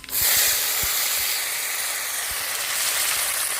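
Black cumin seeds and whole garlic cloves hit hot oil in a pan. A sudden loud sizzle bursts up and then continues as a steady, close hiss. A few faint knocks sit underneath and there is no talking.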